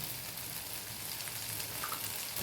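Ghee sizzles in a pan of banana stem curry (thor ghonto), a soft, even frying hiss up close with faint bubbling, no voices.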